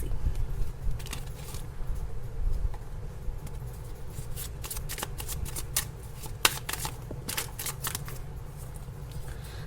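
Tarot cards shuffled by hand indoors, a steady run of soft riffling and flicking with sharper snaps toward the end, close and fairly quiet.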